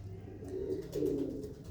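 Pigeons kept in a loft coo in low, throaty rolling bursts that swell louder toward the middle and end, with no talking.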